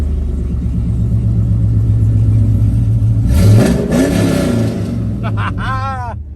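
A 2002 Chevrolet Camaro Z/28 engine idles with a deep rumble, then revs up loudly and falls back, with a harsh, throaty roar close by from an open electric exhaust cutout.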